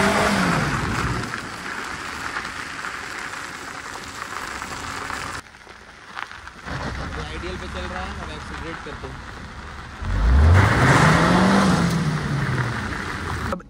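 A Hyundai Santro rolling on new Yokohama tyres drives slowly in clutch, with a steady road and engine rumble and a rising, falling engine pitch, while someone talks over it.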